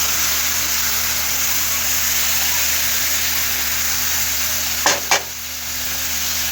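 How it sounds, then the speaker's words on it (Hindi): A spoon stirs semolina halwa roasting with sugar in a pan over a low flame, a continuous bright sizzling hiss with two short scraping strokes toward the end. "पहले एक बार हम चमचा घुमा लेते हैं।"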